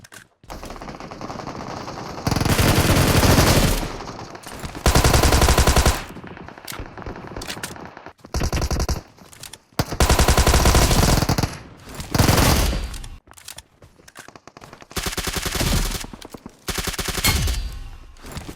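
VSS rifle fire in the PUBG Mobile battle royale game, loud sustained bursts of rapid shots repeating in several separate volleys with short pauses between them.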